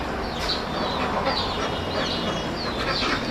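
Penned ducks, kept shut in behind netting for several days, quack in a steady overlapping chorus of nasal calls, close and continuous throughout.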